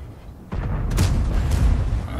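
A Russian tank cannon fires in the World of Tanks game, one heavy boom that rolls into a sustained, loud rumbling tail.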